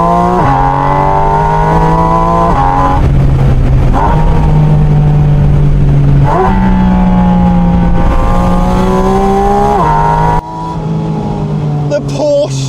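A Porsche Spyder RS engine revs loud and close, its pitch climbing and falling in repeated pulls with brief dips between them, and it barely lets up throughout.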